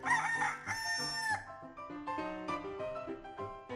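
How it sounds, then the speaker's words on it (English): A pet rooster crows in drawn-out, strained calls at the start, followed by softer, stepping tonal sounds at moderate volume. "their beloved pet rooster"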